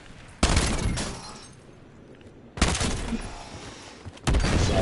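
Gunfire in the video game Black Ops 7 comes in loud, close bursts of rapid automatic shots, three separate volleys with brief gaps of quieter ambience between them.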